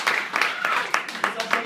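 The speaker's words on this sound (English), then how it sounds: "Hand of applause right here." Scattered audience clapping at the Muse Cafe in Provo, Utah, a small crowd's hands popping unevenly while a voice talks over it.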